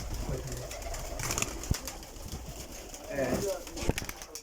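High-flying pigeons in a breeding setup coo steadily in low, murmuring phrases, and a few sharp clicks and a voice blend into the busy background.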